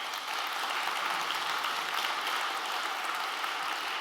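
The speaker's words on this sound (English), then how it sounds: "Let's give them a round of applause." An audience applauds at a National Heritage Week awards ceremony, producing a steady, even wash of clapping from a sizeable crowd that holds at a constant level throughout with no voices above it.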